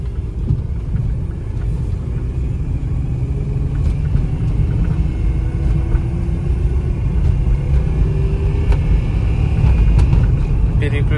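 A Volkswagen Touareg engine, which has a fault, rumbles steadily from inside the cabin, its pitch rising and then dropping briefly as the automatic transmission changes gear without a jolt, with no talking.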